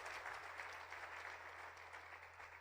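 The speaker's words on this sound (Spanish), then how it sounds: "denle un buen aplauso al Señor" A church congregation claps in a steady, sustained round of applause that fills the room at a moderate level, with no one talking over it.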